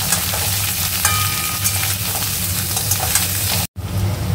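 Young jackfruit frying in a pan with spices, a steady loud sizzle throughout with occasional stirring scrapes and a brief dropout near the end.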